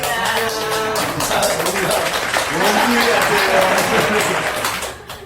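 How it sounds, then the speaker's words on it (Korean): Family members clap at a home award ceremony marking a first paycheck, a steady patter of hands beneath loud, overlapping voices talking close by throughout. "박수 치세요."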